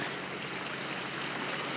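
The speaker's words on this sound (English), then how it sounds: "Just the water being pushed away from the hull." Water rushes steadily along the hull of a sailing boat under way on a river, a continuous close broadband wash with no talking.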